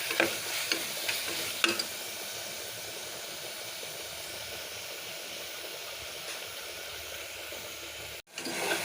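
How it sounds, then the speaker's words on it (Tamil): Spices with chilli and coriander powder sauté in a pan, a steady soft hiss-like sizzle with a few stirring knocks at the start and a brief break near the end. "போட்டு இது எல்லாத்தையும் வதக்கலாம்"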